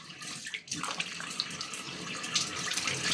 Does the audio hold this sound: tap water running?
yes